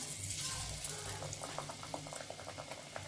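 Bottle gourd pakoras (bhajiya) dropping into hot oil, a bubbling, boiling-like fry with a rush of sizzle at the start easing into a softer, crackling bubble, faint and close.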